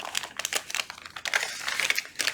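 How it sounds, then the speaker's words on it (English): Scissors cutting the excess plastic-foil material of an Italian coffee bag, a rapid series of crisp snips and crinkles, close and distinct, with no talking. "I'm gonna cut the excess around here"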